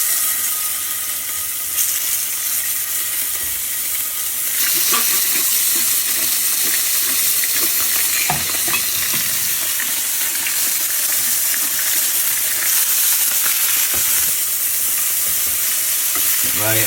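Thick pieces of snapper seasoned with salt and pepper fry in oil, a loud continuous sizzle that runs steadily throughout with brief crackles and no speech.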